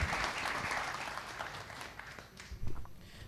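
Applause from an audience at an HR conference rewarding a panel, clapping that starts fairly strong and fades gradually, with a few low bumps and knocks near the end.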